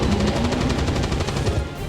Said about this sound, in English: I'm not sure how one gets a headshot with a Gatling gun